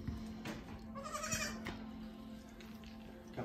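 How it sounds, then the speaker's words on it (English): A little baby goat bleating indoors among puppies, giving a couple of thin, wavering cries at moderate distance over a quiet background hum, with small bumps and rustles around it. "checking out the little goat"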